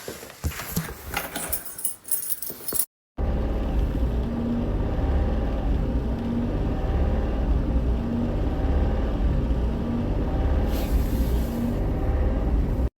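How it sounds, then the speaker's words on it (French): A few seconds of clattering, then a steady low engine drone from inside a car, rumbling continuously with a brief rise in pitch near the end. "La voiture, elle accélère toute seule."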